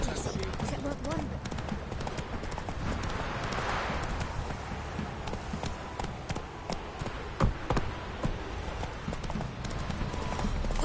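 Horse hooves clip-clop steadily in a fantasy video game set on Fyke Isle, a close, continuous trotting rhythm running under background game sounds for the whole stretch.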